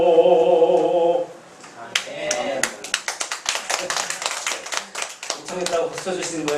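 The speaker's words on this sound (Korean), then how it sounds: "못하겠다고 박수 주시는 거예요?" A church congregation claps during a sermon, a quick run of sharp, uneven hand claps rising over sung and spoken voices before the talk resumes.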